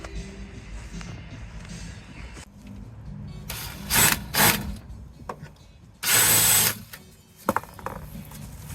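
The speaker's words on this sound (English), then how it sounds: "get it started drilling, just to kind of score a mark, take it off, and drill away." A power drill whines in several short bursts, one longer steady run, drilling holes through a plate into a van, between quieter stretches of scraping and handling noises.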